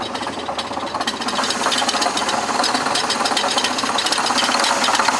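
A Chevy Impala engine with a suspect timing belt runs with a fast, steady metallic rattle and knock over its hum, loud and close with no talking.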